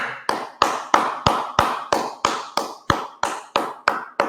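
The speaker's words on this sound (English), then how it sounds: "please give one big clap to Praful, who scored number one in this quiz" Clapping for a quiz winner during a live NEET PG revision session, heard as a dozen crisp single claps at an even, steady rhythm, close and loud, with no talk.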